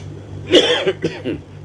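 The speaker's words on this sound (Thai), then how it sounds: "เสียงกระแอมกระไอ ก็ขอสุมาอภัยตัว" A man coughs once sharply, then clears his throat in a few short rough bursts, close and fairly loud, over a low steady hum.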